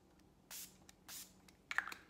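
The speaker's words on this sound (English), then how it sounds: "just hold all of them 6 to 8 inches away from your face and just spray" Face mist sprayed from a bottle held several inches from the face: two short hissing bursts, close and clear, followed by faint clicking and handling noises in a quiet room.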